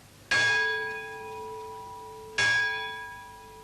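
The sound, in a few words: Lutine bell at Lloyd's rung twice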